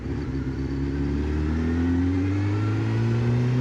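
A Honda motorcycle accelerates on a country road ride, its engine note climbing steadily in pitch through the gears, loud and close with wind rush and no talk.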